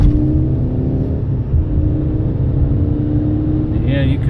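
A 2007 Harley-Davidson V-Rod motorcycle pulls onto an interstate, its steady droning engine heard from inside a following truck, a continuous loud hum with road noise running under the cab.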